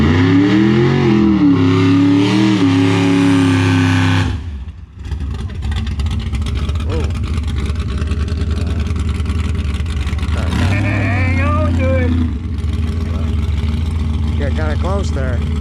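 Close, loud engine roar from a car at an eighth-mile drag strip, steady revving that drops off, then surges again under people talking over it.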